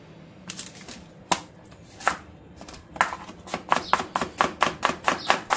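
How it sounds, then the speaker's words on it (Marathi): Onions are sliced thinly with a knife on a cutting board for prawn biryani, starting with scattered cuts and settling into a quick, even run of crisp chops close by, with no speech. "कांदे आपण असे 2 प्रकारात कापलेत."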